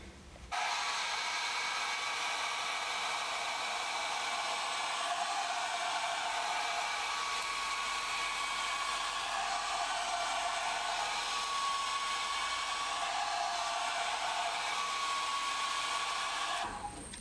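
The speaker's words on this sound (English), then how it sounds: "So let me show you with the hair dryer." A hair dryer set on low heat blows steadily while drying flat, fine hair, a constant close whoosh that runs unbroken for the whole stretch without talk.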